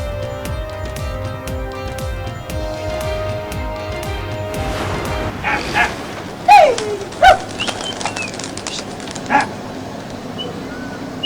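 Pigeons sold in a Karachi market coo in short throaty bursts in the second half, after a stretch of tonal music, with a dog barking nearby.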